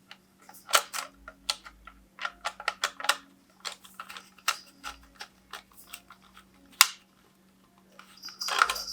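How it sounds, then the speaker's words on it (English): Screw being driven by hand into the trigger of a Dyson V11 vacuum, a close sequence of small irregular ticks and clicks in a quiet room, ending in a brief rustle. "let's get this screw screwed in"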